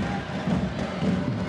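A handball arena crowd applauds and cheers after an equalising goal at 29-29 in a women's match between Érd and Ferencváros, a dense, steady roar of clapping close around.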